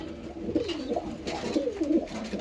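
Racing pigeons coo steadily at close range, with soft repeated throaty calls overlapping in a loose rhythm as the birds return from a headwind race.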